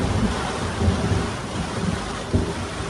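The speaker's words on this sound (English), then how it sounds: "we've got some hectic thunder and lightning" Thunder rolls low and steady during a storm, with rain falling around a sailboat lying at anchor in Marsh Harbour in the Abacos, Bahamas; one heavier rumble swells near the end.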